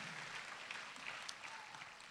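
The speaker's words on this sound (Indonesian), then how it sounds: "Kita berikan tepuk tangan buat pengurus gereja ini." Church congregation applauding during a Sunday service, a steady wash of clapping hands that holds evenly throughout, fairly faint and heard from a distance.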